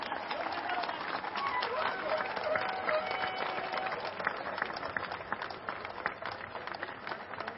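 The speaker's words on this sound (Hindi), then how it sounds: "आपकी तालियां रुकनी नहीं चाहिए, ये मौका बार बार नहीं आएगा।" Audience applause at a trade union event honouring a longtime activist, a dense steady clapping that holds for several seconds with crowd noise and faint voices mixed in.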